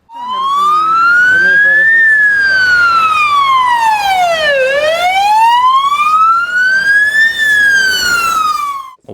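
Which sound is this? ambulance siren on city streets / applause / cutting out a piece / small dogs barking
ambulance siren on city streets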